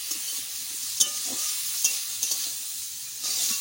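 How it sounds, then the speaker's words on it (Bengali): Bottle gourd greens and tender shoots frying in a pan hiss with a steady, dense sizzle, marked by a few light taps and scrapes of stirring, near and with no speech. "শাক ভাজা প্রায় হয়ে গেছে"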